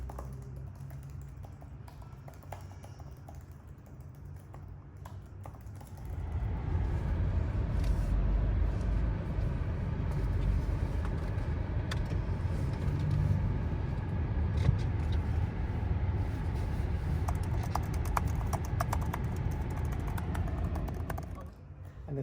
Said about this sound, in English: let's take a look at and hear the typing sound.